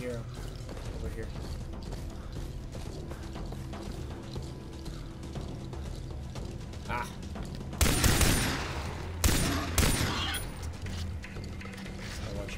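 Gunfire in the video game Far Cry 3 breaks out in two loud bursts late on, over a steady bed of game ambience and ongoing talk.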